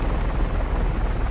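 A gold-painted helicopter in Just Cause 3 drones with a loud, continuous rotor chop and engine roar, steady and close with no voices.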